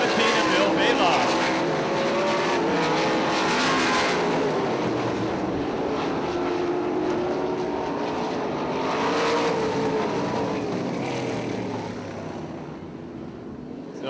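410 sprint cars roaring around a dirt oval, a loud sustained engine drone with rising and falling passes, heard under an announcer's voice over the public address system.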